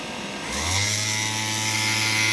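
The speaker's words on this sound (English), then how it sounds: "Yep, compressor kicked on." Solar-powered air conditioner compressor in an LMTV truck kicking on, a close mechanical hum rising quickly to a steady loud drone with a high whine above it.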